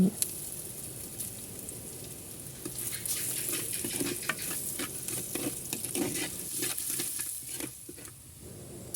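Spices and dried chillies temper in hot oil in a pan for a jackfruit curry, a steady close sizzle with crackles and stirring scrapes, no voices.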